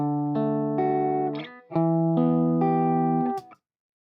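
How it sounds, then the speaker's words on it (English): Dry electric guitar with no delay or reverb plays a few sustained chords and single notes, with clean, abrupt note endings, close and fairly loud, then stops short. "So just dry guitar."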